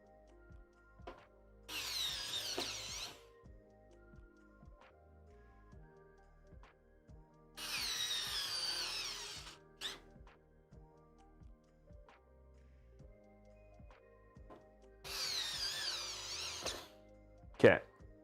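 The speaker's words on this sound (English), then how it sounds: "Let me finish putting these screws in real quick." Screws are driven in while a PC is built, with three separate bursts of a small electric driver whirring, each lasting a second or two, among scattered light ticks and clicks.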